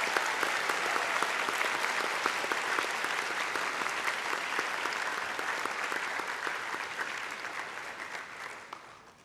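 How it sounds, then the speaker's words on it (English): Audience at the 2017 National Science Bowl high school championship breaks into sustained applause for the students, dense steady clapping that fills the hall and tapers off near the end. "I want everyone to give them a round of applause."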